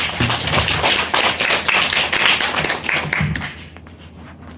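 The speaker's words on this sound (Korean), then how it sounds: "큰 박수로 맞이해 주세요." A seated lecture audience claps to welcome a guest speaker, a burst of dense, fairly close applause that thins into scattered claps and fades out within a few seconds.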